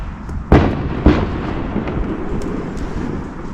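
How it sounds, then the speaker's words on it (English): Two sharp fireworks booms go off in quick succession, then a lingering rumble with faint pops afterward, distant and echoing. "Are those fireworks?"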